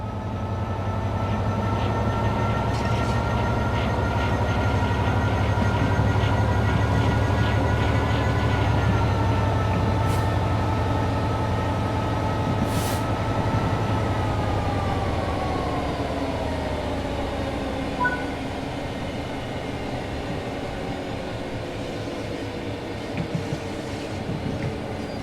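A train rolling along in Train Simulator 3, a continuous loud low rumble with a motor tone sliding downward as it slows, a couple of brief clanks along the way, no talking.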